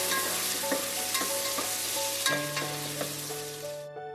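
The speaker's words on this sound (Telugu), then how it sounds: "కట్ చేసుకున్న ఆనియన్స్ ఇందులో వేసేసి ఒక 2 మినిట్స్ హై" Chopped onions sizzle in hot oil in a pot over high flame, a steady close crackling hiss broken by repeated scraping stirs, fading out abruptly at the end.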